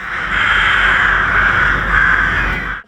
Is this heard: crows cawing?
yes